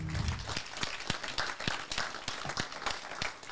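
Scattered outdoor applause from a modest audience after an agricultural technology round table, with distinct individual claps standing out, moderate and fairly distant, with no talking.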